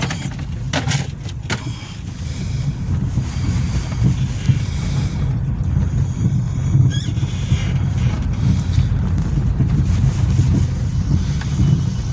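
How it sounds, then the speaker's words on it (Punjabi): Outdoor wind buffets the microphone in a continuous low rumble for about twelve seconds, with a few sharp knocks early on. "ਬਾਹਰ ਨੂੰ ਚੱਲਦੀ ਆ ਹਵਾ ਵਧੀਆ"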